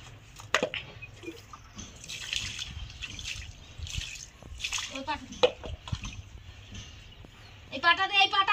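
Water splashes and trickles as a woman is bathed with shampoo and soap, soft pours and drips close by, with people talking throughout.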